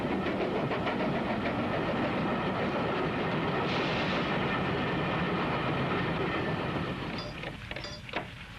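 A train runs on rails approaching a tunnel with a loud, steady rushing rumble that stays constant, then begins to fade near the end.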